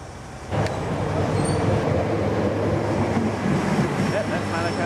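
Manukau line commuter train at Puhinui Station, a steady low rumble and broadband roar setting in after half a second and holding loud and close throughout, with no talk over it.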